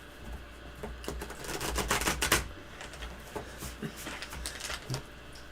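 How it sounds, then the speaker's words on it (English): Tarot cards being shuffled by hand with some difficulty, quiet irregular riffling and shuffling bursts at close range, denser in the middle and thinning toward the end. "I'm having problems shuffling."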